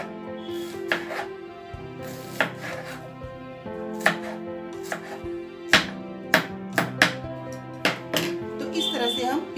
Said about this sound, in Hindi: प्याज को बारीक बारीक काट लेंगे